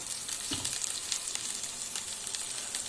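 Cooking oil sizzles steadily in a frying pan before calamari goes in, a constant close hiss with faint crackles throughout and no voices.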